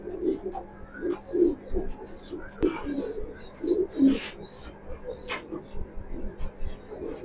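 Young racing pigeons from a club loft cooing in repeated low throaty bursts close by, with wing flutters and faint chirps around them and someone talking at times underneath.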